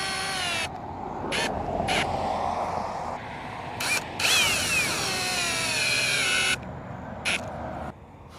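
A power drill drives six Simpson Strong-Tie screws into a mailbox post, its high whine starting and stopping in several short and long bursts, loud and close.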